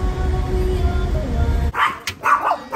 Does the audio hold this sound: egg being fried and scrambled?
no